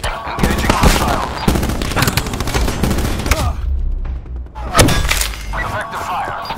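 Bursts of automatic gunfire in a military shooter game, rapid crackling volleys near and loud, pausing briefly before another burst, with clipped radio voice callouts mixed in.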